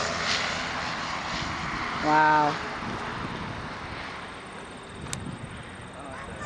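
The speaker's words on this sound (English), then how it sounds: "A little FedEx Grand Caravan plane." A FedEx Cessna Grand Caravan propeller plane passes during planespotting at Toronto Pearson, its steady engine drone filling the air at moderate distance while a person briefly exclaims over it.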